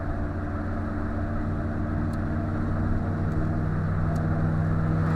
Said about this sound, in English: This car's so noisy, isn't it?